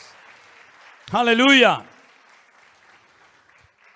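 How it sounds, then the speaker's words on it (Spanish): A church congregation claps in a faint, continuous patter behind a single loud, drawn-out shouted exclamation, and the clapping carries on quietly after it. "Fuertes aplausos a nuestro Dios en esta tarde."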